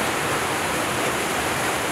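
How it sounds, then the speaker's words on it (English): Steady, dense rushing water from a two-step waterfall on Suter Creek, a loud continuous roar with no breaks and no voices. "two-step waterfall, which is featured in this zoomed-in shot from waterway"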